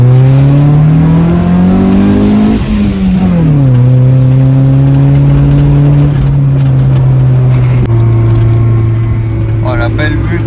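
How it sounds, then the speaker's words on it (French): A 1995 Honda Civic MA8 engine revs steadily and climbs through gears, its loud tone rising and dropping at shifts as the car accelerates, with someone talking over it. "Là je peux accélérer un petit peu."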